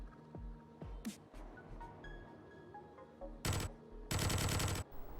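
Dual Uzis fired in the game Foreign Legion: Multi-Massacre, two rapid bursts of automatic gunfire near the end, loud and close, after a few scattered softer game effects, with no talk.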